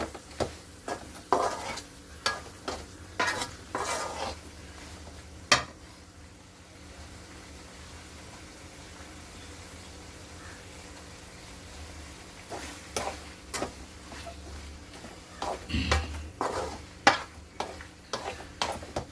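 Curry leaves sizzling in oil with asafoetida and garlic for a lemon pickle, with a quiet hiss beneath repeated scraping stirs from a spoon against the pan, in bursts separated by a calmer stretch.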